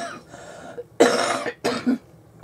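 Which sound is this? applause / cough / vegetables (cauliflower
cough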